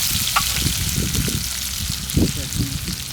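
Green chillies and curry leaves fry with salt in a pan, a loud, continuous sizzle with bursts of spattering as they hit the hot oil.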